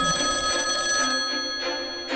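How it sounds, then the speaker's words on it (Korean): An early-morning call at an embassy: a telephone bell rings loudly and continuously, a bright electronic trill that fades slightly toward the end, with no voices. "이른 아침부터 주한 미국 대사관에 전화가 울렸어"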